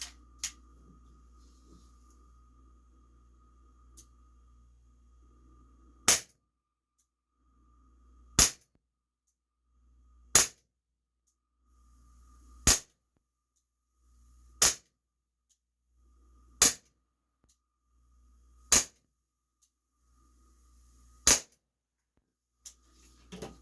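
Umarex Beretta PX4 Storm BB pistol fired at a target, eight sharp separate shots spaced about two seconds apart, loud and close, with quiet pauses between them.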